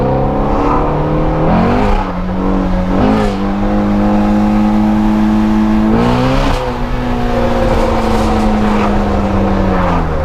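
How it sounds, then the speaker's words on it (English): A Shelby Ford GT350 Mustang with its stock exhaust revs hard under wide-open throttle, heard from inside the car. The engine note is loud and continuous, climbing in pitch, dropping briefly at gear changes, then climbing again. "In a Mustang, like stock exhaust sounds like that"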